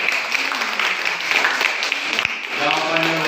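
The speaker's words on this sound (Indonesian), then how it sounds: "tepuk tangan dulu." Classroom applause, a group of students clapping steadily for a classmate's answer during a church lesson, with a few voices talking faintly under the clapping near the end.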